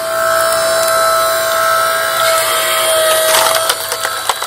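An LS520B hydraulic firewood splitter drives through a large log set along its grain: a steady, close hydraulic whine runs throughout, then sharp cracking and splintering bursts come near the end.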